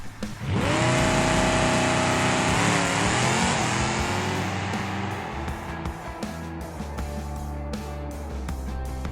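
Gavril D-Series drag truck in BeamNG launching on a full nitrous shot, engine roaring loudly and climbing through gear shifts, then fading as it pulls away down the strip.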